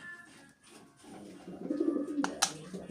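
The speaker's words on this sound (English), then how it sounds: "my pigeon Lucuś, is gonna make a sound for you" A pet pigeon coos softly and close by, a few low throaty rolling coos building over a couple of seconds, with a faint sharp sound near the end.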